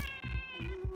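Cat meowing inside the factory-building game Satisfactory, a string of loud, close, drawn-out harmonic meows with a wailing, caterwauling edge, sounding alone without any talk.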